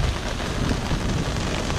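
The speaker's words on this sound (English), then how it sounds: "It's raining," Heavy rain in Miami pours steadily on a boat outdoors, a dense continuous hiss with low rumbling wash, loud and unbroken throughout with no talking.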